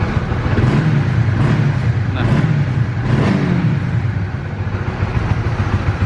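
A Honda CB150X motorcycle engine, 2022 Volcano Matte Black, runs and revs close by with a smooth low hum that swells in a few gentle pulses, while a brief word is spoken over it.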